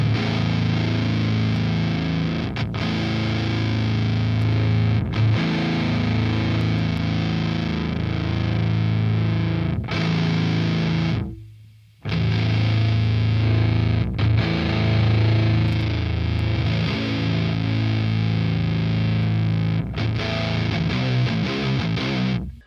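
A heavily distorted nu metal electric guitar through an Amped Dual amp and Mega Original cabinet chugs loud and thick, with low, sustained riffing and a brief cut to silence midway.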